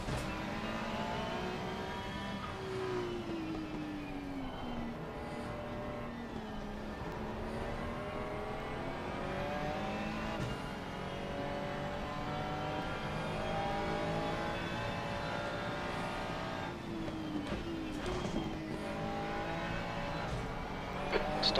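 Race cars lapping Zolder in Assetto Corsa Competizione, a continuous droning engine whine that rises and falls through gear changes and revs, steady and fairly loud throughout with no talking.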